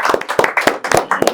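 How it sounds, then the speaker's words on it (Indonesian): A small group claps in a quick burst to welcome a visiting football coach on a talk show, with several uneven rounds of close, sharp hand claps over just over a second. "kita tepuk tangan dulu"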